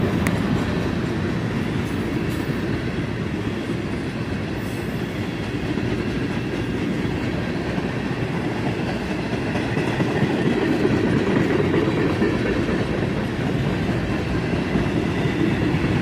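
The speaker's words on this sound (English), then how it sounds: "And a Clem Co-op grain car, and then one more tank, and that's the end of the train as he rounds the bend and heads out of town." A CSX freight train of grain cars and tank cars rolls steadily past, a loud, continuous rumble with rhythmic wheel clatter and rattling that holds level throughout.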